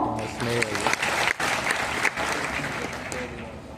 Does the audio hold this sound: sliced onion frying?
no